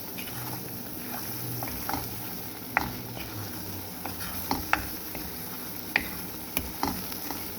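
Garlic pickle with asafoetida, turmeric and salt cooking in oil, giving a low steady sizzle with occasional sharp clicks and taps of a stirring spoon against the pan, quiet and close, with no voices.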